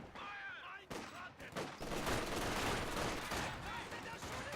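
MG42 machine-gun fire and other gunfire in a Company of Heroes 2 battle, with bursts and a sharp report, then sustained dense rattling shots, loud and continuous, while a voice talks underneath.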